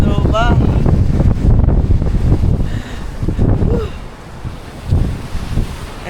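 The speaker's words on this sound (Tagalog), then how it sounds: "Ito talaga yung hinahanap ko, yung ganitong hangin sa pantalan." Strong gusty wind at a seaport buffeting the microphone in a low roar, with scattered background sounds and a few faint tonal chirps.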